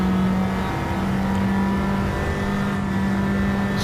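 A heavy Maserati race car's engine in a GTCC championship racing game at Alsace, France, holding a loud, steady, high-revving drone close up for the whole stretch with no pause.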